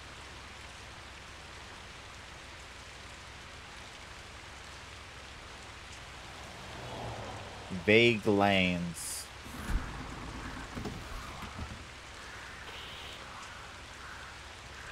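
Heavy rain falls as a steady broadband hiss in the driving game Keep Driving, constant across the clip, while a voice speaks briefly in the middle.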